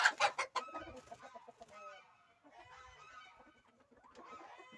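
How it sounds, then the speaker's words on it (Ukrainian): Chickens cluck nearby, a loud burst of squawks at first, then softer scattered clucking and murmuring from several birds. "ось такі наші курочки"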